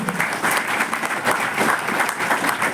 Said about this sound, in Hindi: जोरदार तालियों से स्वागत करिए, अभिनंदन करिए